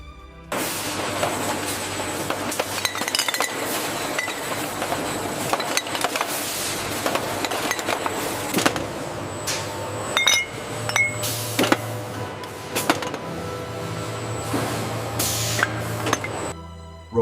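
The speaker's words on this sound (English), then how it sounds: "Robotic case packers handle the glass with delicate precision, loading heavy cases tirelessly around the clock." Glass jars of pumpkin puree clink and rattle on a factory packaging line, with robotic case packers loading heavy cases amid steady machine hum, scattered bright clinks and clatters throughout.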